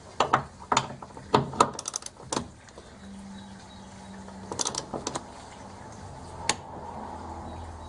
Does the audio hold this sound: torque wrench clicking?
yes